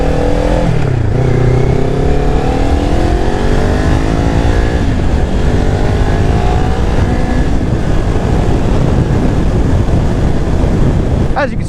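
A beginner sportbike accelerating at partial throttle, its engine whine rising through the gears under heavy, constant wind roar on the microphone.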